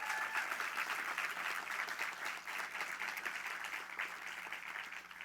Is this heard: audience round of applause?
yes